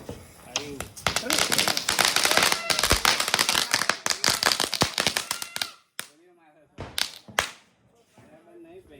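A tank-shaped Diwali firecracker going off, a dense rapid crackle of sharp pops and bangs for several seconds, then a few louder scattered cracks. Excited voices call out over and between the bursts.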